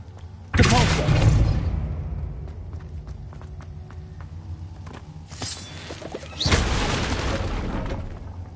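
A Depulso spell from the Hogwarts Legacy video game lands with a loud whooshing boom. Quieter rumbling follows, then a second forceful blast, close and dominant.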